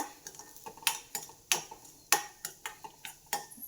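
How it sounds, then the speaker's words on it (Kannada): Semolina frying in ghee until golden brown for a mango kesari bath, stirred with a metal spoon that makes sharp, irregular scraping and clinking taps against the pan, close up and with no talking. "ಇದನ್ನು ಅಷ್ಟೇ ತುಪ್ಪದಲ್ಲಿ ಗೋಲ್ಡನ್ ಬ್ರೌನ್ ಆಗೋವರೆಗೂ ಫ್ರೈ ಮಾಡ್ಬೇಕು"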